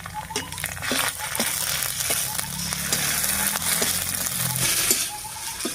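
Ginger garlic paste fries in a pan with onion and slit green chillies, a steady close sizzle with faint crackles and occasional stirring scrapes throughout.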